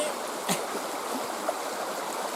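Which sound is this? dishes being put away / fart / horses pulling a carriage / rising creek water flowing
rising creek water flowing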